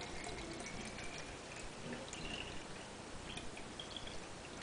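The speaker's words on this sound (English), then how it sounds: "now with whatever water you've got, all you have to do is just pour it in to the specified level." Water is poured from a container into a small Sea-Monkeys tank up to the fill line, a faint steady trickling and splashing that runs continuously without talk.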